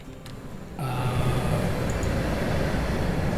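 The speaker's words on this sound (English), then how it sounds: "a train headed out" In the railway simulation game Railway Empire 2, a train runs through a mountain scenario: a soft rumble jumps to a steady, dense rolling noise that continues evenly to the end, with no voices.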